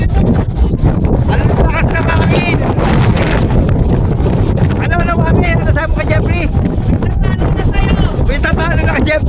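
Strong wind aboard the MV 2GO cruise ship buffets the microphone in a steady roar, with people talking loudly over it throughout.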